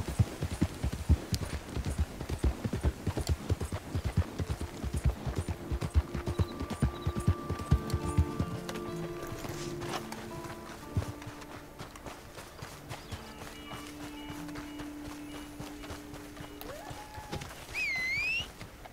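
Horse hooves clip-clop in a Red Dead video game, a steady walking rhythm at first that fades into soft background tones and music with a brief whinny-like sound near the end.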